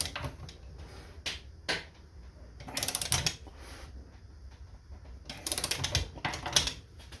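A wrench with a 3/8-inch drive impact socket ratchets on a bolt toward 150 foot-pounds, giving several sharp clicking bursts between quieter pauses, close and fairly loud.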